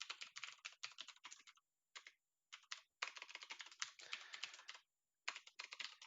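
Rapid typing on a computer keyboard while coding, bursts of quick close clicks separated by short pauses, crisp and quiet with no talking.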